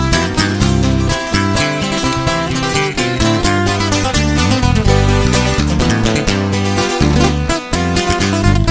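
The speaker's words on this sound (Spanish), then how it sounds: "Suena así con el requintón." A bright, busy requinto guitar picks rapid melodic runs over a steady bass and rhythm accompaniment, loud and continuous throughout.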